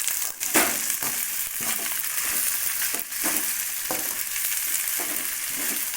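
Drumstick leaves and onion frying in a pan for a poriyal, sizzling steadily while being stirred, with repeated scraping and clattering strokes close by and no voices.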